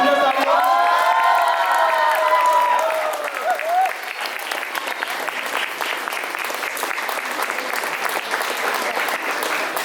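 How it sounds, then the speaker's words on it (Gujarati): Loud, dense audience applause fills a hall at a Munich Gujarati Samaj Diwali cultural performance in Garching, with a voice carrying over the opening seconds before the clapping continues steadily to the end. "એકવાર જોરદાર તાળીઓ."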